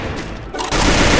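Sustained rapid automatic fire from a SCAR rifle in Free Fire, loud and continuous, with a brief dip before the burst swells and holds steady to the end.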